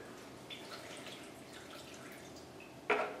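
Skim milk is poured into a breakfast mixture in a kitchen, quiet liquid trickling and dripping, then a brief louder splash of pouring close by near the end.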